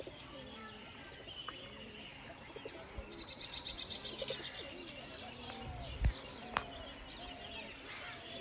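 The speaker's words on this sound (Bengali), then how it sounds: "এই হচ্ছে দুটো কবুতর" Two pigeons cooing close by in a steady run of soft, rolling coos, with chirps and twitters from other birds around them and a couple of sharp knocks near the end.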